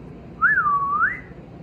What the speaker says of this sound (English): I need you to listen for me to whistle.